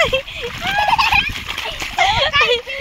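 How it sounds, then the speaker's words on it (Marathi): Water rushes and splashes at a small waterfall, a constant broadband flow under loud, near speech that dominates most of the moment. "हे सगळं पाणी बघा कसं वाहत आहे"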